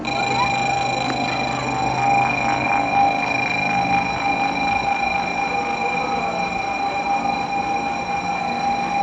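A Shinkansen Nozomi train stands at the platform of Okayama station with a steady mechanical hum and high electrical tones throughout, a continuous loud station ambience with no talk.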